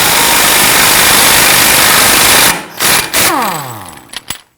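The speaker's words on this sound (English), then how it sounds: "Using a 32mm socket, go ahead and loosen and remove the axle nut." A power impact tool rattles loudly and continuously on an axle nut of a 2005-2010 Chrysler 300 using a 32mm socket, then stops and spins down with a few short final bursts and clicks.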